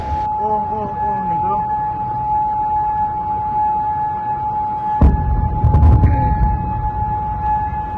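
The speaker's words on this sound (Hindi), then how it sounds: "बहरीन और कुवैत में ईरान की जानिब से फ़ज़ाई हमलों के बाद सायरन बज उठे।" Air raid sirens sound in Bahrain or Kuwait after Iranian air attacks, a steady wailing tone with rising and falling sweeps, moderately loud and held throughout, with a burst of louder commotion near the end.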